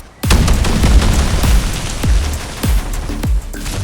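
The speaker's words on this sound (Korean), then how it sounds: "다섯 발까지는 원격으로 폭발이 가능하지만 여섯 발째 탄을 다 썼을 때는 자동으로 폭발합니다" Explosive revolver rounds detonating in Fallout 4, a rapid series of loud, close booms, roughly six or seven sharp blasts with short gaps and rumbling tails, with no voices.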